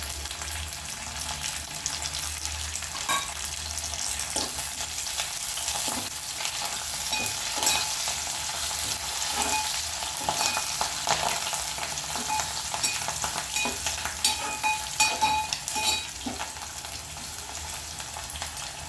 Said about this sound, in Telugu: మంచిగా ఫ్రై చేసుకోవాలి ఉల్లిపాయలు